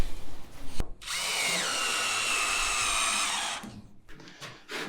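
Power drill whirring steadily for about three seconds while driving bolts into the top of a welded boat galley subframe, close and loud, with short workshop clatter before and after.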